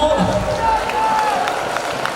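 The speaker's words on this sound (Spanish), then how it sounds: "Aplauso" Audience claps and cheers at a school carnival performance, a continuous wash of applause and crowd voices with occasional whistles or shouts mixed in.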